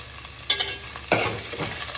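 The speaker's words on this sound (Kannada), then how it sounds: "ಈಗ ಫುಲ್ ಫ್ಲೇಮಲ್ಲಿ ಕುಕ್ ಮಾಡ್ತಿದ್ದೇನೆ" Onions fry in a pan over full flame, a steady sizzle with two sharper bursts of stirring and scraping, close and alone without talk.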